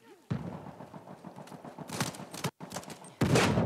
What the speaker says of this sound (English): Dude is trying to shoot us like that.